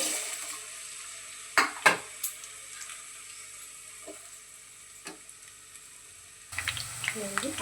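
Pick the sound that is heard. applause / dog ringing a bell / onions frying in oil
onions frying in oil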